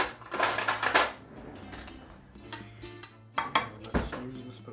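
Loud clatter of dishes and metal cutlery as a spoon is fetched in a home kitchen while making a stout loaded pie, a long burst followed by a few sharp clinks, with light voices nearby.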